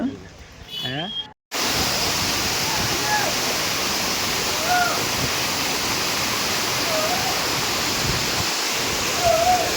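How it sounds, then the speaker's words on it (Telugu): Ranajilleda waterfalls at Araku pour over a series of rock steps in a loud, unbroken roar of rushing water, close by, after a brief moment of speech at the start. "ఈ రణజిల్లెడ వాటర్ ఫాల్స్ అనేది స్టెప్స్ కింద అయితే ఉంటుంది"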